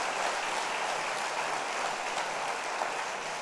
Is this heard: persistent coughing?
no